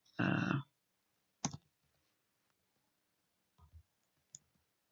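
A computer mouse clicks while a crafting project is saved, a few sharp, close clicks separated by pauses, alone without talk.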